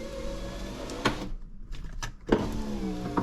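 A Mercedes W124 electric window motor whirs in short bursts, a close whining drive interrupted by clunks and a brief silent gap before another run, with no talking.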